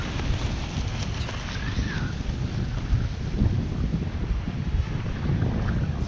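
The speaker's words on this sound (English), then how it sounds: "So it's really windy." Strong gusty wind buffets the microphone on a beach during kiteboarding, a loud continuous roar with rumbling low-end bursts and no talking.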